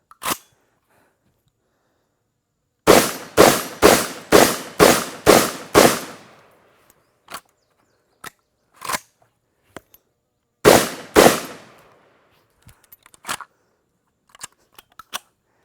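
A Vepr 12 shotgun fed from SGM magazines, using underpowered ammo that causes malfunctions, fires a rapid string of six sharp, loud blasts. Scattered clicks and handling noises follow, then two more close shots and further faint clicks.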